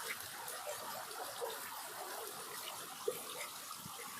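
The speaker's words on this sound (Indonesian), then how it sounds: "di sini juga ada aliran sungai yang sangat deras" A fast-flowing river or drain channel rushes steadily as a broad, continuous hiss of water, even in level throughout with no clear voices.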